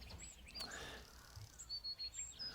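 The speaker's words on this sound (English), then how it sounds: "Ha, birds." Outdoors, birds give several short, high chirps and tweets, scattered and fairly faint over a low background hum.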